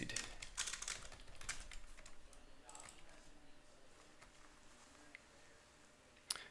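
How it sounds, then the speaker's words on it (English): Soft clicking of computer keyboard keys in short uneven bursts, faint and close, with one sharper click near the end and no talking. "I was typing out the question."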